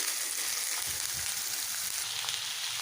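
Nigella seeds and dried red chillies sizzle steadily in hot oil, a constant close-up hiss with faint pops and no voices.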